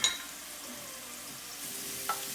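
Ginger and garlic sizzle and fry in a pan with onions, a steady close hiss with faint stirring and no voices.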